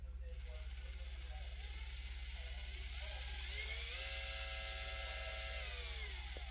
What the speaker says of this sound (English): The motor moves based on how much I move the joystick.